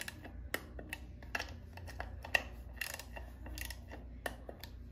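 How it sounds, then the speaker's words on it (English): Socket ratchet tightening the three air filter bolts on a Harley-Davidson Twin Cam Keihin carburetor, a quiet series of irregular clicking ratchet strokes, close by and with no talking. "7/16 socket at 110 inch pounds will secure these three bolts holding on the air filter."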